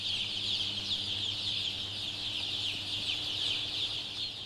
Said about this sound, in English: Chickens are by nature social, curious, and intelligent animals.